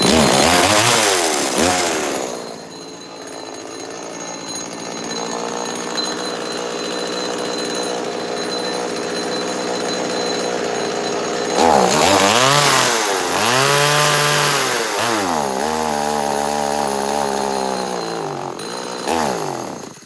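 A Stihl MS170/MS180 chainsaw engine idles and revs unevenly, its harmonic whine rising and falling in loud surges with brief dips, close by and without talk.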